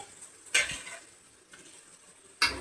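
Masala with boiled potatoes being stirred and sautéed in a pan for a chhana bora curry, two or three sharp scraping spoon strokes separated by quiet gaps, close and fairly faint.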